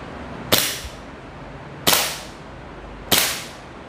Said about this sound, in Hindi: अभी इसको मैं फायर करता हूँ, चला के दिखाता हूँ किस तरह चलता है।